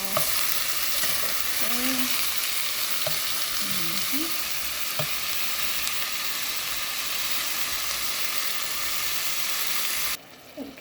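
Black-eyed peas and onions sauté in a pan for southern-style black-eyed peas, a steady close sizzle and crackle with occasional stirring scrapes, continuous and loud until it cuts off near the end.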